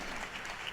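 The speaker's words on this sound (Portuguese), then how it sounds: "agradeçamos a todos eles e o façamos com um forte aplauso." A church congregation applauding, a dense wash of clapping from many hands filling the room, steady and moderately distant, short burst.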